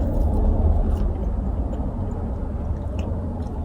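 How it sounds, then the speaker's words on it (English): A car rolls into a parking spot close by, a steady low engine rumble that stays loud and near throughout, with no one talking. "Another flipping car is coming in."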